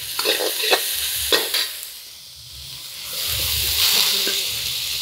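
Shrimp and clams stir-frying in a wok for char kway teow: loud close sizzling with sharp scraping strokes of a spatula against the pan early on, then a steady swelling frying hiss.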